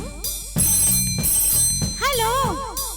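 Trilling telephone bell rings in a classic Hindi film song, bursts of bright ringing alternating with warbling tones and musical accompaniment, loud and close.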